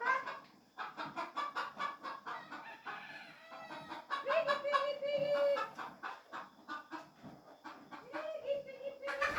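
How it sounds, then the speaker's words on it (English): Chickens cluck and call in a lively, rhythmic series of close bursts, with a rooster-like crow rising partway through, all fairly quiet and continuous. "Oh, the chickens."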